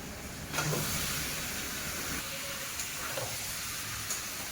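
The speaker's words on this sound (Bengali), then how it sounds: "এবারে মশলার মধ্যে চিকেন দেব" Chicken dropped into hot masala in a pan for a gandhoraj chicken dish, giving a steady loud hiss and sizzle with a few faint clinks, continuing evenly without talk.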